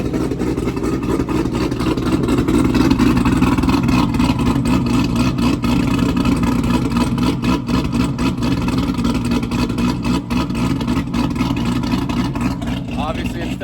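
C7 Corvette Z06 V8 with a BTR cam, idling cold with a deep, choppy, lumpy rumble that pulses unevenly, loud and close, with a voice occasionally audible over the engine.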